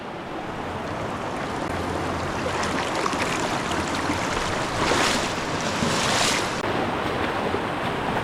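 River rapids rush through a narrow canyon with a continuous, broad roar of churning water that swells slightly now and then.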